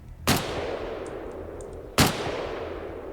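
Two sharp gunshots ring out in the Stalker Reforged game, about two seconds apart, each with a loud attack and a long echoing tail over steady ambient noise.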